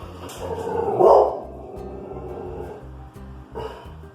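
A dog barks indoors with one short, loud bark near the middle, set against a steady low hum and quieter background sounds.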